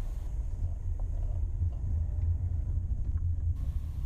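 A manual car drives slowly on down a residential street, giving a steady low engine and road rumble with some wind noise, close and continuous with no talk.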